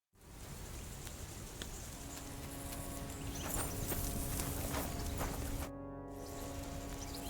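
In the video game Kingdom Come: Deliverance 2, horses' hooves clop in a steady uneven rhythm over cliffs and rocky paths amid continuous outdoor ambience, several animals walking at moderate volume.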